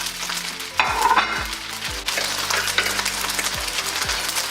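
Rice and egg stir-fry loudly in a hot pan, a dense sizzle broken by repeated scraping strokes and tosses of the spatula, close and continuous with no voices.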